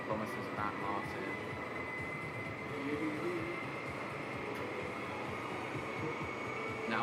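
An Intercity 125 HST diesel train in Intercity Swallow livery rumbles steadily and fairly quietly, a continuous low drone with faint wheel rhythm throughout.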